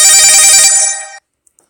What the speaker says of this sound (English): And I get interrupted by a phone call.